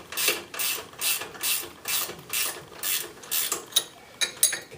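A ratchet wrench loosens a shock bolt on a Can-Am Outlander 850 ATV in about a dozen rhythmic clicking strokes, close and clear with no talking.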